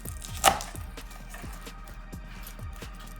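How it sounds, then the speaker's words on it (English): A knife chopping the green stalks of a garlic plant on a cutting board, a steady run of crisp, fairly close chops at about three per second, with a louder knock near the start and no talking. "If you want to cut all the green stuff from the garlic plant"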